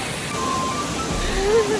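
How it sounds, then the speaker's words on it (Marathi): A waterfall on a nature trail rushes as a steady broadband roar behind faint outdoor ambience, with soft murmuring voices nearby. "माझ्या पाठीमागे धबधबा"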